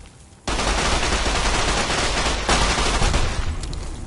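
Sustained submachine gun fire in Fallout New Vegas, aimed at bark scorpions on the road to the Mojave Outpost: a dense, unbroken automatic burst erupting abruptly and rattling on loudly for several seconds.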